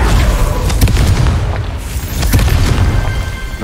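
A Confringo spell explosion in the video game Hogwarts Legacy, a loud booming blast with rumbling, crackling bursts that continue densely for several seconds.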